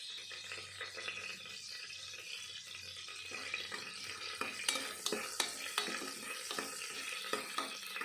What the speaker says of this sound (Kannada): ಎಣ್ಣೆ ಬಿಸಿ ಆದಮೇಲೆ ನಾವು ತೆಗೆದುಕೊಂಡಿರೋ ಚಕ್ಕೆ, ಲವಂಗ, ಸೋಂಪು, ಮರಾಠಿ ಮೊಗ್ಗು, ಪಲಾವ್ ಎಲೆ ಇದನ್ನೆಲ್ಲ ಹಾಕಿ ಫ್ರೈ ಮಾಡ್ಕೊಬೇಕು.